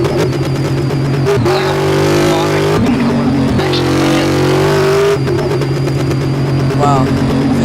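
A green Mustang in Car Mechanic Simulator, its engine revving hard and loud as it climbs through the gears, with pitch rising and dropping at each shift.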